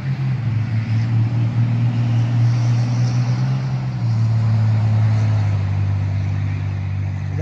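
A truck drives past beside a vegetable garden row, its low steady engine rumble loud and continuous throughout, shifting slightly in pitch as it goes by, with no talking.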